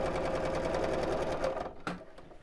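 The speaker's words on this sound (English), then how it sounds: "And sew all the way around." Sewing machine stitching around a viscose bag with lining, running steadily and close for most of the clip, then stopping with a brief thump near the end.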